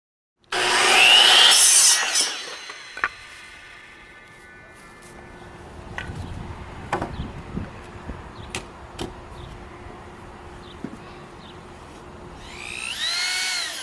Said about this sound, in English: Measure and cut each cross stud individually and evenly place 3 studs per section.